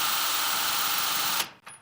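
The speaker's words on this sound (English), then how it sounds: "If you don't want to ram it like this, you can always grab a drill." A power drill on low speed whines in a steady, loud, close drone while pressing in an arrow insert, then cuts off abruptly and spins down with a brief rattle.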